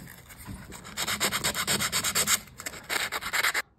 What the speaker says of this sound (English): Just taking the paint off that surface.